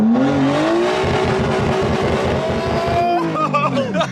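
A rough Nissan R32 Skyline (EW32) running again after four years sits close by as its engine revs hard, rising and holding a loud rasping note for about three seconds before dropping back to a burbling idle.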